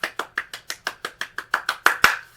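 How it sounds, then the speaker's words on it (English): One person claps alone about a dozen times in a quick, even rhythm, crisp and close, with the last couple of claps louder. "Give yourself a round of applause."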